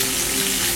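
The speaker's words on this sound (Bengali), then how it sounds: "মাছগুলো আমার ভাজা হয়ে এসছে।" Pieces of Katla fish fry in hot oil for a Bengali fish kalia, giving a brief, dense, loud sizzle that stays even throughout.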